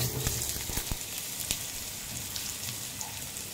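Onions sautéing in plenty of oil in a non-stick frying pan, a steady close sizzle and crackle with scattered sharper pops throughout.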